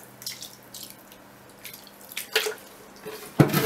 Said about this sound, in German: Ich nehme jetzt hier lauwarmes Wasser